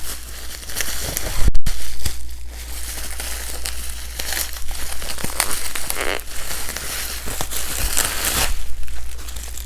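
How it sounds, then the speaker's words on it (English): A framed piece wrapped in bubble wrap being unwrapped, loud close crinkling and crackling of plastic in irregular bursts with a few sharper tearing rustles. "all wrapped in bubble wrap."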